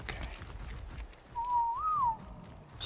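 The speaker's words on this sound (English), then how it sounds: "Whistle neutral." A player character in ARK: Survival Evolved gives a neutral command whistle: one clear, wavering tone lasting under a second over steady game ambience and low rumble.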